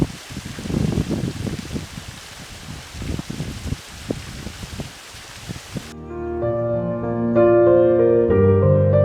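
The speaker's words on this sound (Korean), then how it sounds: "물소리가 아주 청명하게 들리는군요." Steady broadband rush of a mountain stream flowing near a temple entrance, with scattered drips for about six seconds, then cut off abruptly as sustained music takes over.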